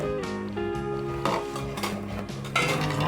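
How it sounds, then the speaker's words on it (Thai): Sugar being stirred to dissolve in a pot of milk jelly mixture, with a utensil clinking and scraping against the metal pot in a few distinct ringing strokes, close and clear. "คราวนี้ก็คนต่อให้ละลายอีกรอบนึงนะคะ"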